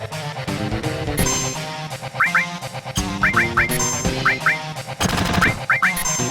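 Final Fantasy VII battle theme plays as loud, busy synthesized video game music with pounding rhythm, bright stabs and rising arpeggio figures, no voices.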